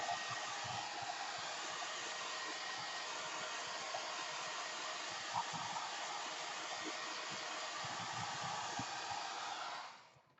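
A hair dryer blows steadily and close for about ten seconds, drying paint on an art journal background, then cuts off at the end.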